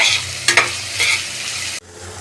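Onions fry in a pan with a close, bright sizzle. Two short stirring scrapes come through, and then the sound cuts off abruptly near the end.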